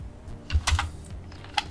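Fingers type a text command on a computer keyboard while drafting a house plan in AutoCAD, giving a short burst of close, crisp keystrokes with no speech.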